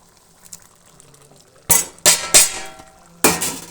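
A spoon clinks against a bowl in several sharp, separate strikes while ingredients are mixed together in the kitchen, preceded by quieter handling sounds.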